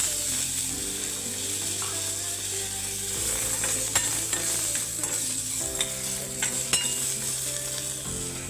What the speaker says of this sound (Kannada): ಈಗ ಇದರಲ್ಲೇ ಆಲೂಗಡ್ಡೆನೂ ಹಾಕ್ಕೊಳ್ತಾ ಇದ್ದೀನಿ